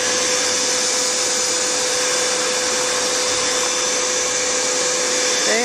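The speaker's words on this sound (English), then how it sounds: "I hear those vacuum" A loud, steady vacuum motor whine drones without a break as bees are removed from a hive, a constant high hum right up close.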